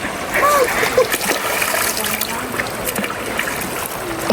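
Water splashes and trickles as someone bathes in the cold Koshi river at Chatara, a close, busy wash of splashing that runs throughout, with voices talking at moments.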